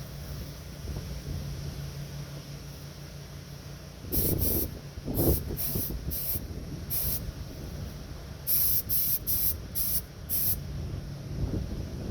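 Air spray gun spraying primer outdoors in strong wind at slightly high air pressure, heard as a series of short, loud hissing bursts of varying length over steady wind rumble, with no talk.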